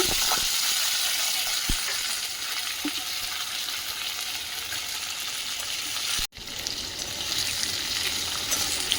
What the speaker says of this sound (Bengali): আর দিয়ে দেবো কারি পাতা আলুগুলো দিয়ে দেব